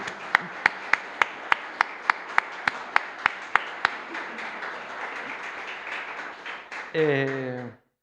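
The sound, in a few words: church congregation applause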